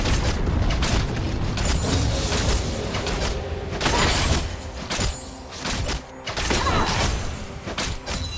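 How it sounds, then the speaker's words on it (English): A tower collapses with repeated heavy booms and crashing impacts in a League of Legends top-lane match, loud bursts separated by brief dips. "Red team's turret has been destroyed."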